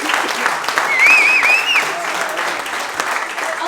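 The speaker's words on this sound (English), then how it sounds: "please give a round of applause" A live marketing and sales seminar audience applauds steadily, a dense wash of clapping from many hands with a few whistles cutting through near the middle.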